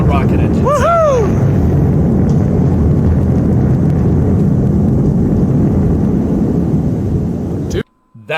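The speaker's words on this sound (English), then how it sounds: "That's what rocket engines sound like. You hear that ripping noise? It sounds like paper tearing." Rocket engines of returning boosters roar with a loud, continuous ripping crackle like tearing paper, while a brief whistling tone sweeps over it near the start.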